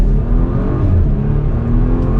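Porsche Macan pulling hard in first gear, a loud, steady engine drone close to the cabin with no talking.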